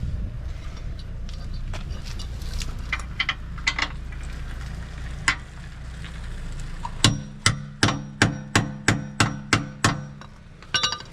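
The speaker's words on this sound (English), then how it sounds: "I'm going to hammer this into the head." Hammer blows driving a tool into a seized bolt head under a Land Rover Discovery 3, scattered light taps at first, then a run of about ten sharp, evenly spaced metallic strikes close by, with no talking.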